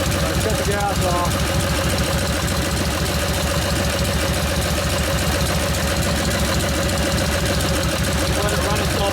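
A 1952 Harley-Davidson panhead FL with a Linkert carburetor idles with a loud, uneven chugging close by while the fuel is shut off and it runs on. Voices talk briefly over the engine.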